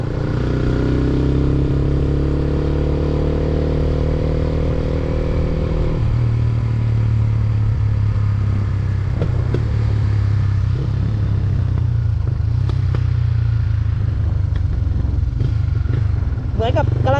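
A Yamaha Exciter 150 motorcycle is ridden with a steady, loud engine drone and changing pitch throughout. Wind and road noise sit beneath it, with some clattering near the end.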